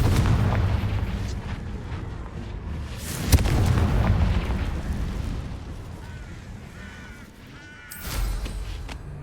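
Bombarda and Confringo blasting spells going off in a wizard video game, a loud booming burst followed by rumbling, rolling debris and a second sharp crackling impact near the end, with no talking.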